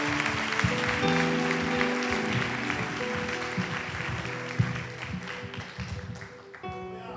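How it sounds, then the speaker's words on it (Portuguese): Congregation applauding at a church conference in Brazil, a steady wash of clapping filling the hall over sustained music, tapering off near the end. "Você pode dar um aplauso ao Senhor aí?"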